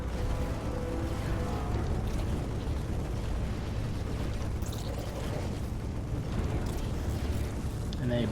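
StarCraft 2 combat as Marines open fire on a Sentry and an Immortal, a dense continuous wash of rapid gunfire, impacts and shield hits, loud and steady throughout with no speech.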